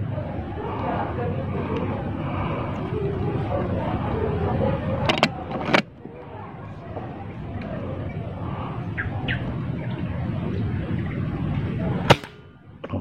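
A D12 Classic air rifle gives two sharp, close shots, then a fainter tick and a third crisp shot later on, over constant outdoor background noise.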